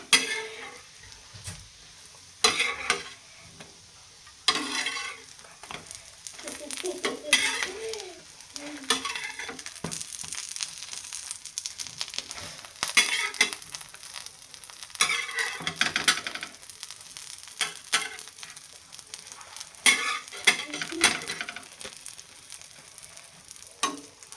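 Egg-coated bread fries in a pan with a steady sizzle, broken by scraping, clinks and the knock of a spatula as the slices are pressed and flipped, close and continuous for about twenty-five seconds with no talking.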